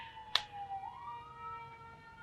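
An emergency vehicle siren wails from a main road, its sweeping tones faint and distant, with a sharp click near the start.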